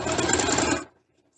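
A sewing machine runs a short back stitch on fabric, a loud, steady mechanical whir for under a second that then stops abruptly, leaving near silence.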